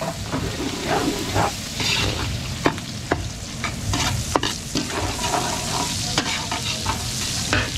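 Garlic and onion sauté in a pan for chop suey at a catering cookout in Masantol, Pampanga, giving a steady close sizzle with repeated scraping stir strokes and no talking.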